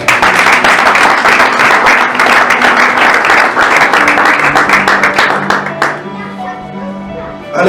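Church congregation applauding loudly and steadily for several seconds, a dense wash of many hands clapping together, then tapering off near the end as music tones emerge underneath.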